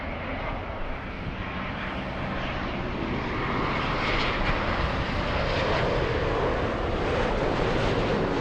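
A jet airliner lands at LAX in Los Angeles, its steady broadband engine roar loud and continuous throughout without any voices.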